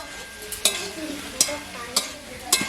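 A spoon stirring spiced potato filling for samosas in a frying pan, four distinct scraping knocks spaced about half a second apart over a soft continuous sizzle, close and clear.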